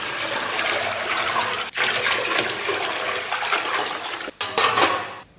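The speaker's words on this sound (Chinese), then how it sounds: "咱们给锅里边稍微来点水" Water pours steadily into a cooking pot while steamed pork belly with pickled mustard greens is being prepared, a continuous splashing rush with a brief pause near the end before a final louder burst.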